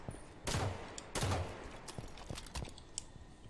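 Gunfire in the Halo 5 Forge video game, aimed at barriers: two short, dense bursts of shots, then scattered lighter cracks, all fairly quiet.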